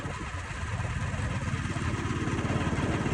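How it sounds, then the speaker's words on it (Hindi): A motorcycle engine runs steadily close by as the rider sets off after refuelling, a loud continuous putter with a slight rise in pace and no talk. "मोटरसाइकिल में फ्यूल डलवा के अभी रवाना हो गए हैं"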